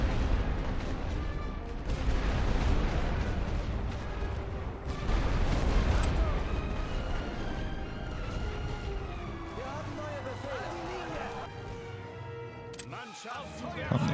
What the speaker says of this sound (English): Toss their grenades in there.